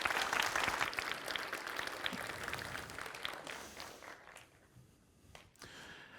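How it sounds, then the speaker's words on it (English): A conference audience applauds a speaker's introduction at a security talk, a full burst of clapping that thins and fades out over several seconds, leaving faint room noise and a few scattered claps. "Big round of applause."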